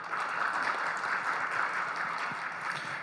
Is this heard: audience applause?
yes